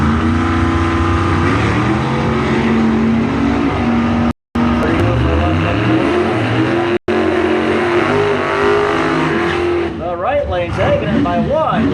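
Drag race cars launching side by side at a bracket race, engines roaring loud and continuous with rising revs, an announcer's voice running over the top.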